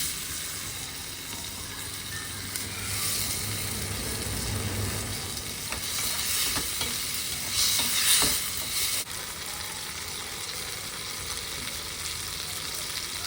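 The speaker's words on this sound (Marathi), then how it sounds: "आता हा बारीक चिरलेला टोमॅटो घातला हे छान ढवळून घेणार" Finely chopped tomato cooking in a pan for a tomato and fresh coconut chutney, a continuous hiss with occasional stirring scrapes and clicks, steady and fairly quiet, with a faint low hum underneath and no voices.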